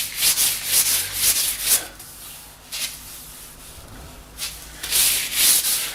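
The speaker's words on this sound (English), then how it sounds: "So generally you'd have a sanding block for this" Dry, rhythmic rubbing of sandpaper on a wooden snooker cue shaft to remove lacquer, in several bursts of back-and-forth strokes, close up, with brief pauses between.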